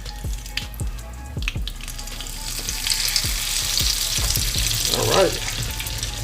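Pork fried rice sizzling loudly in a hot pan, with a series of sharp spatula knocks and scrapes as it is turned over once a brown crust forms; a brief spoken word comes early.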